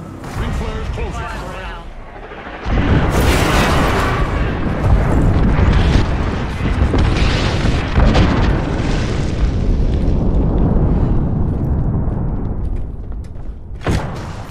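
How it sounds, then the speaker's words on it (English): Airstrike explosions in Apex Legends: after a quieter lead-in, a sudden heavy blast opens a long rolling barrage of booms and rumbling detonations, loud and continuous for several seconds, ending with a sharp crack near the close. "Calling the airstrike. Airstrike."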